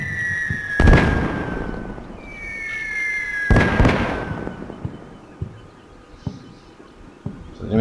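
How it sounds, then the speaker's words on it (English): Enemy artillery fire mission landing on a Marine position in the wargame Combat Mission: Shock Force, two loud explosions with whistling incoming shells, then scattered fainter thumps as the rumble fades. "So I've got an enemy fire mission falling down in the position where the other LAV is"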